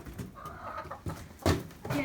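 A few scattered hen clucks and short squawks come from nearby farm chickens, with brief rustling bursts between them.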